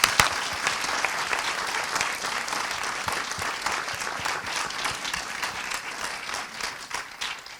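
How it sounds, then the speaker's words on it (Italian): A theatre audience at the opening night of the Pordenone Docs Fest documentary festival gives loud, continuous applause with crisp individual claps, holding strong throughout before thinning near the end. "un grande applauso al team del festival"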